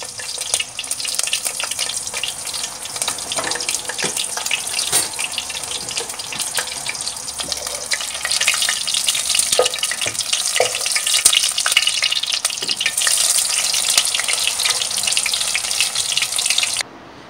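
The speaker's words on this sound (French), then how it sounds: "Je vais passer à la cuisson des beignets de crevettes." Shrimp fritters sizzle steadily in hot oil, a dense, loud crackling and hiss that runs on without a break and swells a little partway through before stopping abruptly.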